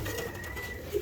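A young pigeon, a cross bird in a loft, gives a soft, low coo, faint and close, with a short rising call near the end and no talking.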